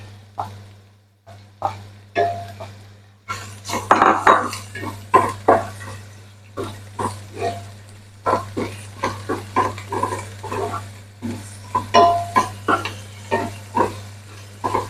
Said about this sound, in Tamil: நாங்கள் வெட்டி வச்சிருந்த வெண்டிக்காயை சேர்த்து கொள்ளுவோம்